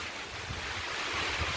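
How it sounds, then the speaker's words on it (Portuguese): Heavy rain driven by strong wind in Paraíba, northeast Brazil, makes a dense, loud, continuous roar with low gusty rumbles from wind buffeting the microphone, and no one talking. "Agora, ó, chuva muito forte. Vento."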